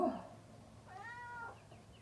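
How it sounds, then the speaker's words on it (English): An outdoor cat gives a single drawn-out meow, fairly close and clear, after a short noise at the start, with no talking. "this is all this cat does"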